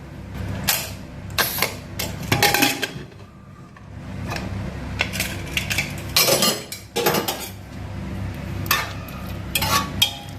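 A pressure cooker lid being opened after cooking beef, with metallic clanks and scrapes of the pot and lid, several sharp clinks spaced through the stretch over a low kitchen background hum.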